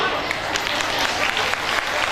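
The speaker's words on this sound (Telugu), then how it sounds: "దీనికి మీరు చప్పట్లో కొట్టాలి" An audience at a school's 21st anniversary gathering claps in dense, sustained applause, a steady wash of many hands close by.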